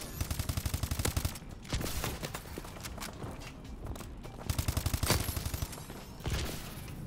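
Rapid bursts of automatic AK-12 rifle fire from the video game Call of Duty: Advanced Warfare come in two clusters of quick, evenly spaced shots, separated by a stretch of quieter in-game sound.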